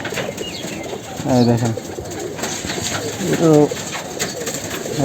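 Pigeons in a loft, including a Sapsila-pattern bird, give two deep throaty coos close by, while someone talks over the soft background.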